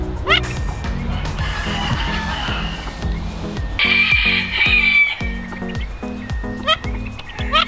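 Mandarin ducks give repeated odd, nasal calls in short bursts that overlap, with other fowl clucking and crowing around them and a few sharp knocks in between.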